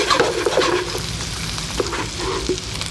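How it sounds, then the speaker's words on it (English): Onions fry in hot bacon fat in a pan with a loud, close, continuous sizzle. Occasional scraping stir noises break through the sizzle, and no one speaks. "we throw in our onions, and we'll let them cook a little, and all that fat"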